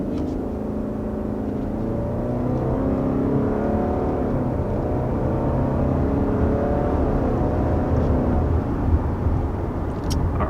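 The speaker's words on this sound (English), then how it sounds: "Alright, so there's a acceleration with this 2022 Subaru Outback." A 2022 Subaru Outback with the standard engine accelerates, its engine note droning loud and steady from the cabin, with tire and road roar beneath.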